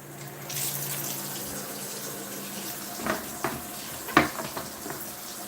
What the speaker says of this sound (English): Then you rinse.